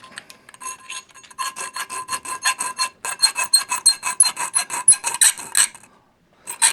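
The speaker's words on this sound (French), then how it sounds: "pour vous montrer, là, ma lime Kyodra." A Kyodra file rasps across a metal shield in quick rhythmic back-and-forth strokes, close and crisp, speeding up midway, then stopping briefly before one last pass.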